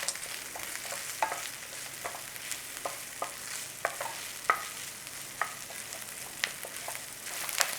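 Bacon and onion frying in vegetable or olive oil: a soft, steady sizzle with scattered clicks and scrapes as the pan is stirred, close by and without talking.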